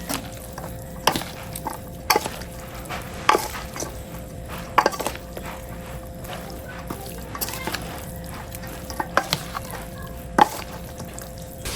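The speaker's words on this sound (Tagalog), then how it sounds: "Kaya nga pangahalo na lang po natin na itong kutsara. Haluin lang po nating maigi." A spoon scrapes and clinks through pork dinakdakan in a pan, soft irregular stirring knocks every second or so over a low background hum, with faint talk in the background.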